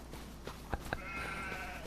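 Goats bleating in the Farming Simulator 25 video game, a few short, faint calls over a steady game background, with no talking.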